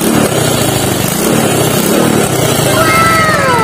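A Rusi Wave 100 motorcycle engine running with a leaking exhaust, a loud, steady buzzing idle with a raspy, hissy edge close by, and a slight rise in revs near the end.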